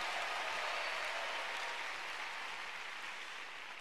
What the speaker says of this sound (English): Give the Lord a big clap and a shout of praise for our Father and the Lord